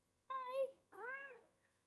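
A cat meows twice in quick succession, two clear, close, rising-and-falling calls in an otherwise quiet room.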